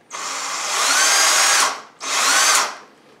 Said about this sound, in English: You want to make sure when you're drilling that you have the drill exactly even